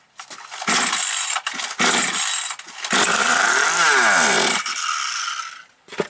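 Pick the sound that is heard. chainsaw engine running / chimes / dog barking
chainsaw engine running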